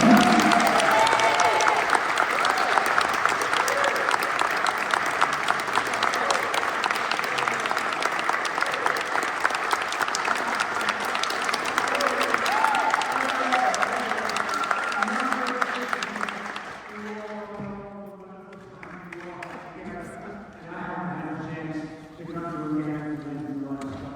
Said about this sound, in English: Can we have a big round of applause for Mr. Geller?